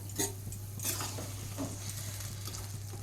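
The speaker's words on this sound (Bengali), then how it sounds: "মাছগুলো দিয়ে ভালো করে মিশিয়ে দিচ্ছি।" Fried fish being stirred into a spiced gravy in a pan, with close scraping strokes of the spoon over a steady low sizzle and occasional clinks against the metal.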